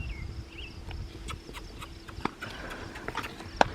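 Hooves of a big, heavy horse thud and clop irregularly on the soft ground of a round pen nearby, with a few sharper knocks and faint birds in the background.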